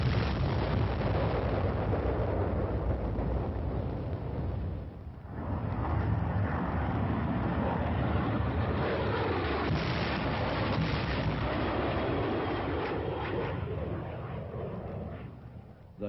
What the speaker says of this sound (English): The deadly napalm is dropped in a veritable blanket of destruction over the enemy's position.